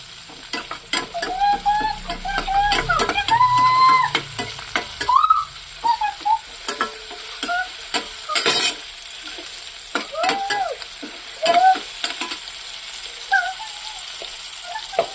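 Goat spleen being stirred with fried onions in a pan, a steady low sizzle under repeated scraping and clanking of a spatula against metal, close and busy, with no talking.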